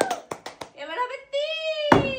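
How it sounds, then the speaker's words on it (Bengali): A handful of quick hand claps during a family lipstick game challenge, sharp and close, followed by a voice talking in a sing-song tone. "জোরে হাততালি হোক রোহিণীর জন্য, জোরে হাততালি"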